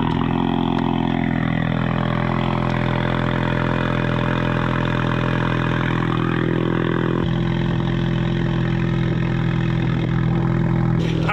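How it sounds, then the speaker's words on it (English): A Ford Mustang running on copper spark plugs idles loudly and steadily after a cold start, with a deep, even rumble that shifts slightly partway through, and no voices. "First things first, cold start."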